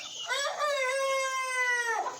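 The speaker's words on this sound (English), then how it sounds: "So I'll let these chickens run out." A rooster crows one long, loud call with a strong harmonic sound, held for nearly two seconds, with chicken clucking around it. The birds are close by in a shop or coop, and no one speaks.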